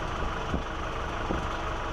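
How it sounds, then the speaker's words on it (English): Planter tractor steered by Trimble RTK auto guidance while planting Royal Red Honeycrisp apple trees, its engine running at a steady low idle-like drone, close and constant, with no voices. "Planter tractor, we steer this using Trimble auto guidance, RTK accuracy, so we're sub 1 inch."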